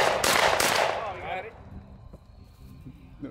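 Shotgun blasts fired at clay skeet outdoors, a couple of loud cracks close together at the start that fade into quiet ambience, with a voice briefly heard beneath.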